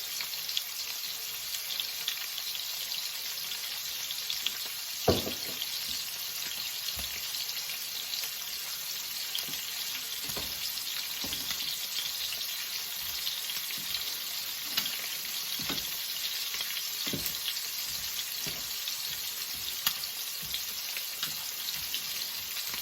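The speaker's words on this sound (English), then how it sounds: "I'm just going to keep frying the cabbage along with the pork chops" Continuous sizzling and crackling of cabbage and pork chops frying in a pan, with occasional clicks and scrapes of cooking utensils.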